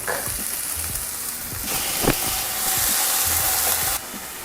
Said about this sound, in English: Once your oil is nice and hot, add in your onions and your garlic.